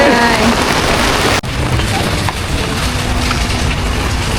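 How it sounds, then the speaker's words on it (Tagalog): Heavy rain pours steadily as a broadband hiss on a walking tour between stations 1 and 3 in Boracay, loud and close throughout, with faint voices mixed in. "Maulan talaga. Bakit maulan talaga?"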